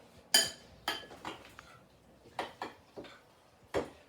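A spoon clinks and taps against a bowl in a handful of sharp, irregular knocks while garlic, dried mint and salt are stirred into Greek yogurt for a dip, close up with no talking.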